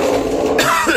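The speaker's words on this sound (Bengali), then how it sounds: "তো বন্ধুরা সকলকে সরি কাশির জন্য" A person coughs indoors, one short rough cough burst at close range, with a little background noise around it.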